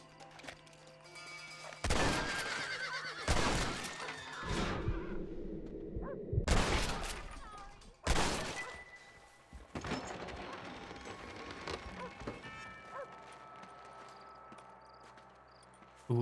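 Horse hooves clip-clop in the Red Dead Redemption video game, broken up by several loud, sharp bursts of gunfire, with no one talking.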